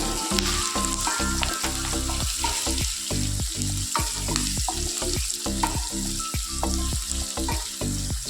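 Salted onions fry in a pan for avalakki uppittu, a loud continuous sizzle broken by quick, rhythmic scraping strokes of a spoon stirring against the pan. No voices are heard.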